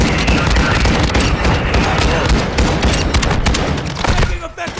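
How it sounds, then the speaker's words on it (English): Big bombs going off upstairs in the Call of Duty Modern Warfare 2 / Warzone 2 Building 21 map, a dense, loud barrage of blasts and gunfire crackle that fades toward the end. "Bombs going off upstairs. Yep. Yeah. Big bombs."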